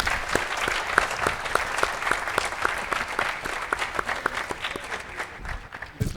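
Audience at a corporate sales and marketing event applauding for the sales director, a dense, steady round of clapping from many hands that continues throughout.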